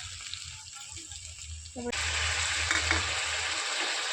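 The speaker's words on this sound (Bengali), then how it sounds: "এবার ভালোভাবে কষিয়ে নেব" Ground cumin, turmeric and chilli powder hit a hot pan, and a quiet kitchen suddenly bursts into a loud, continuous frying sizzle that holds to the end.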